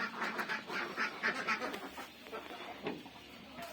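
Village ducks coming home at evening through an opened gate give a quick run of rhythmic, nasal quacks close by, trailing off into quieter calls and a faint voice.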